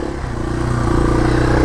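Yamaha TW200 motorcycle engine pulling hard up a hill, a steady close, loud thumping drone that builds slightly in intensity across the short stretch, with no talk over it.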